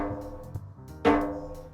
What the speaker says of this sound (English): Now let's hit it.